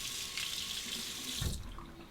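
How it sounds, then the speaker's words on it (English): Hot water runs from a tap into a sink while a Parker 22R gun metal razor is warmed under it: a steady close splashing stream, then a brief deeper gurgle and clatter as the flow shifts near the end. "Temper it under the hot water."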